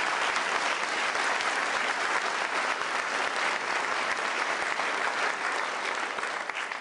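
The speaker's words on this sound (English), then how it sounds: "we should give a round of applause in her absence" Steady, sustained applause fills a university convocation hall, many hands clapping evenly without a break for several seconds.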